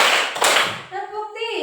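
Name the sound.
class clapping in a counted rhythm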